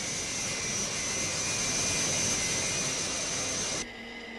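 A high-altitude jet aircraft flying far above the airliner lanes gives a continuous, steady roaring drone with a faint high whine, which cuts off abruptly just before the end.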